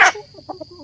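A chicken in a rural village, one sharp loud squawk followed by a few soft, quick clucks close by.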